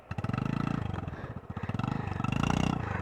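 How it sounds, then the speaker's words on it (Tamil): A motorcycle exhaust close by, throbbing in a steady pulsing beat and swelling in loud revs that dip and climb again over a few seconds. "எக்ஸாஸ்ட் நோட் வேறு பயங்கரமாக வருது கைஸ்"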